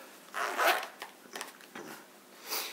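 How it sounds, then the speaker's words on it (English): A Maxpedition Micro organizer pouch is zipped shut with several short, rasping zipper pulls, close and quiet, the last stroke finishing the closure. "Zip that up."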